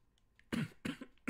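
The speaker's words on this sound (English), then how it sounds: "If I'm coughing a lot, it's because I'm sick" Three harsh coughs come close together, fairly close and moderately loud, over quiet background noise with a few faint clicks.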